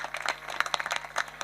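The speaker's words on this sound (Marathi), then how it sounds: "त्यांच्यासाठी एकदा जोरात टाळ्या वाजवा." An audience claps at a Marathi kirtan performance, giving faint, scattered, quick claps over a short stretch with a light crowd murmur.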